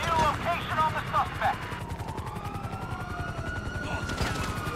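A helicopter's rotor thumps steadily in a battle in Grand Theft Auto V on PC, with bursts of gunfire and sweeping tones layered over the rhythmic chopping.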